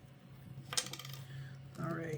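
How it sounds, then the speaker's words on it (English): A glass bottle of shimmering Colorverse fountain pen ink is shaken, giving faint clinking rattles and liquid sloshing in brief bursts against a low background hum. "We need to shake this first. We need to make sure that if there's any shimmers that they get dispersed well."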